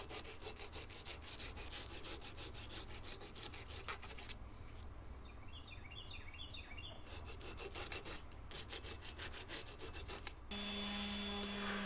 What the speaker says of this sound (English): I'll take some 60 grit sandpaper here and smooth the rest of the way out.